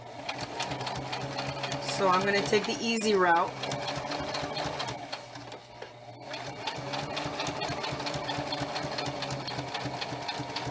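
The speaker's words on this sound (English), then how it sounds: "most of you can probably do this if you're good with a sewing machine." A sewing machine whirs steadily with a mechanical hum while a person talks over it.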